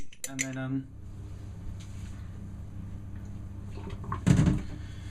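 Spoon scraping the last bits of flat fruit sponge batter out of a bowl, a few close clinks and scrapes, the loudest cluster near the end, after a short hum of voice at the start.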